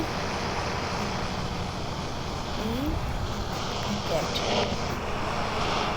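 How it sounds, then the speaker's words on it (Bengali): A jet aircraft roars overhead in a broad, steady wash of engine noise that holds at a constant level throughout, with faint wind-like hiss and no clear speech. "শব্দ হয়েছে দেখছো? তোমাদেরকে দেখাই, এই দেখো একটা জেট"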